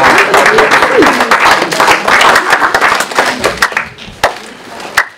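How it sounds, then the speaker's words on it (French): Audience applauding at a hospital New Year's wishes ceremony in Malestroit, a dense burst of clapping that is loud and near at first, thins out toward the end and ends in a few scattered claps. "Il faut l'applaudir. Il faut applaudir."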